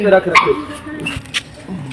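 Dogs kept inside a gurdwara bark and yip close by in short bursts, with a whimper, while people talk over them.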